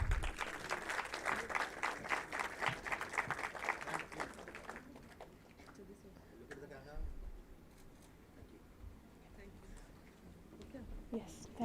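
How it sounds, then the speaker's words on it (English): Applause at a conservation conference, loud, dense clapping from a gathered audience that fades out after about four seconds, leaving quiet room sound with a few voices and faint scattered noises. "Can we get a round of applause,"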